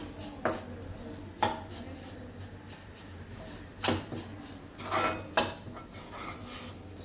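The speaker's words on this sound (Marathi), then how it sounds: "तर परत एकदा सगळं मिक्स करून घ्यायचं" A spoon scrapes and knocks against a pan while coconut laddu mixture with dry fruits is stirred, giving several sharp clinks and scrapes at irregular intervals over a low steady hum.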